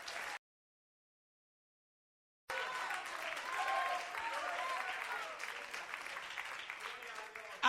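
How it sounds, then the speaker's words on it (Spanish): A church congregation bursts into steady applause after a stretch of silence, clapping densely and fairly loudly for several seconds with a few voices mixed in. "Dale un aplauso fuerte a Cristo."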